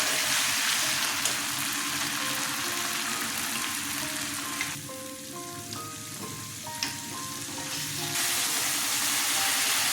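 Ginger-chili paste and bay leaves frying in hot oil for a bottle gourd kofta curry, giving a steady, dense sizzle that dips briefly midway and then swells back, with no talking.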